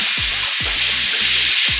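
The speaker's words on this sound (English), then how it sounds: "So while this is searing" Pork searing in a pan, a bright steady sizzle with a few soft low thumps underneath, close and short.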